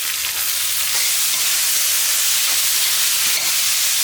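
Sliced onions sauté in a pan for a corn and egg stir-fry, giving off a loud, continuous hissing sizzle that stays even from start to end.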